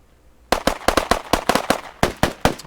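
Rapid gunshots in a military shooter video game, a burst of about ten sharp, loud reports in quick uneven succession after a brief quiet start, close and dry with no talk.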